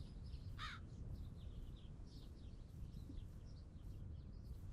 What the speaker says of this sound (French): Quoi, un corbeau.